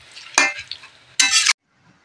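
Meat and potatoes are stirred in a frying pan with a spoon, giving two loud bursts of scraping sizzle between quieter stirring, close up, with no talk.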